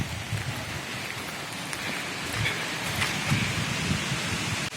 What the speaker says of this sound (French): la pluie se met à tomber